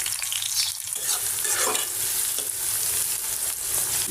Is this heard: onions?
yes